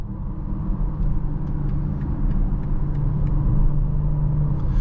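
Low, steady exhaust drone from a 2024 BMW X6 40i in sport mode, heard from inside the cabin while driving. The rumble stays even and fairly loud throughout, with no voices.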